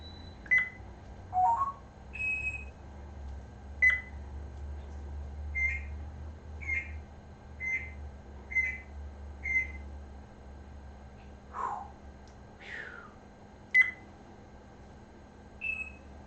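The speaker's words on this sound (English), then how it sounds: "Why are we beeping?" A small bird gives a string of short electronic-sounding beeps and chirps, some rising or falling, spaced irregularly over a low steady hum.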